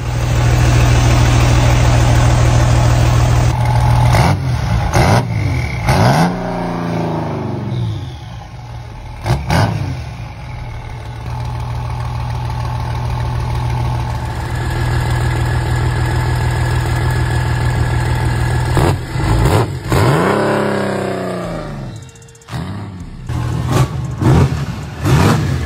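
A Lamborghini fitted with a diesel engine idles with a deep, steady rumble, broken by several sharp revs that climb and fall back, loud and close, with no voices.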